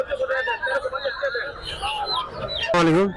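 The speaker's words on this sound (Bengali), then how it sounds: "এখানে পিওর দেশি মোরগ মুরগি পাওয়া যায়" Domestic chickens and roosters at a crowded poultry market in Tongi, clucking and squawking near and far through a constant babble of voices, ending with a loud, harsh squawk.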